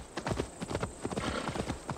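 A horse trots in Assassin's Creed Valhalla, its hooves making a steady, quick clip-clop rhythm on the ground at moderate loudness with no talk over it.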